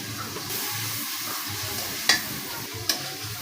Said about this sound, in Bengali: মশলা কষানি হইতেছে, হলুদের গুঁড়ো, মরিচের গুঁড়ো, লবণ সব কিছু দিয়ে এখন কষাবো।